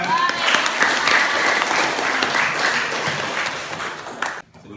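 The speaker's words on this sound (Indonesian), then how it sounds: "Oke, ya, berikan tepuk tangan." A class of students claps together in a classroom, a loud, steady burst of applause that runs for several seconds and then cuts off sharply.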